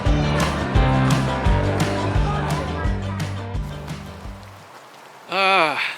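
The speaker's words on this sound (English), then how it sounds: "Another rainy day in Portland." Steady rain in Portland, Oregon, a dense wash of patter and drips with a low rumble underneath. It fades out near the end, followed by a short burst of a higher pitched sound.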